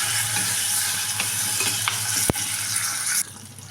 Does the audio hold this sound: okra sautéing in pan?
yes